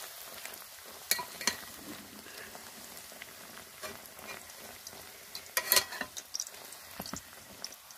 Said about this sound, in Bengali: এবার হালকা গরম হয়ে গেছে তেলটা, এবার এর মধ্যে দিয়ে দেব